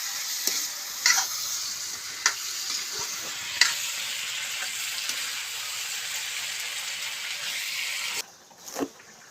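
Spices for a Gujarati tempering sizzle in hot oil, a bright continuous crackle with several sharp ladle clinks and scrapes of stirring, before the frying drops away abruptly near the end.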